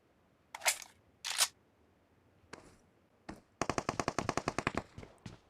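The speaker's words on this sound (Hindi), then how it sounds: "पीछे से फायरिंग होती है" Gunfire in a battle royale video game, coming from behind: two sharp single shots, then a couple more, then a rapid burst of automatic fire, crisp and fairly near.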